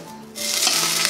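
Sugar caramelizes in a hot pan for pig's trotters, a close, steady hiss and sizzle that swells suddenly after a quiet start.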